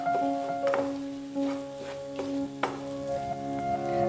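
Kashmiri chilli powder and spices sizzling in a pan of butter chicken base, stirred with soft scraping strokes and a low steady fry, close and quiet, with a faint tonal hum underneath.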